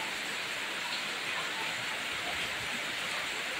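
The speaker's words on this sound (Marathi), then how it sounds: "समोरचा डोंगरच दिसत नाही बघा, एवढा पाऊस पडतो" Heavy rain pours down in a dense, steady hiss across a hillside village, thick enough to hide the mountain opposite. No voices can be heard.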